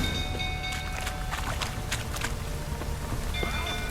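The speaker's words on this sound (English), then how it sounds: "Looks like rain." Rain in The Witcher 3 video game, a steady dense patter of drops on surfaces with a constant wash of noise throughout, no voices.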